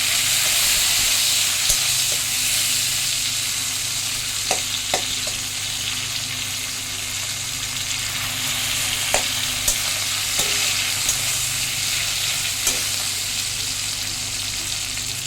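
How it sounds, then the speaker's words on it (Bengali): Onions fry in a pan while fish curry is cooked, a steady hissing sizzle close by with occasional faint clicks of a utensil, with no talking. "পেঁয়াজটা ভেজে নিই, পরে ফিরে আসছি।"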